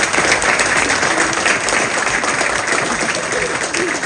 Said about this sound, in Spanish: Vamos a dar un aplauso a San Nicolás de Bari